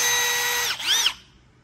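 A nearly new Milwaukee cordless power drill whines at high speed, then spins down and briefly revs again before stopping, close and fairly loud with no speech.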